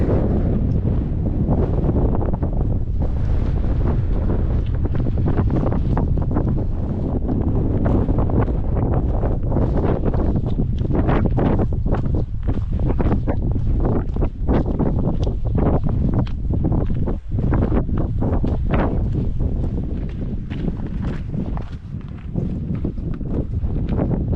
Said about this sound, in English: it's very breezy up here today